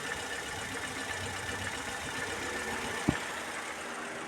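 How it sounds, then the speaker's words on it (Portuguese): Electric radiator fan of a Fiat Uno running with a steady whooshing hum alongside the idling engine, close and constant, with one brief knock partway through. "O eletroventilador funcionando"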